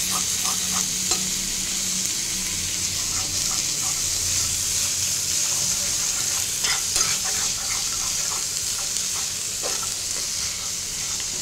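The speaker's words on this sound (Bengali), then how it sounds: "এবার আমি চিংড়ি মাছটা অ্যাড করে দিচ্ছি। এবার আমি আবার ভালো করে এটা মিশিয়ে নেব।" Potato and prawn filling for Bengali chops stirred in a hot pan, a constant bright sizzle with repeated scraping and tapping of a spatula, close and steady, no speech.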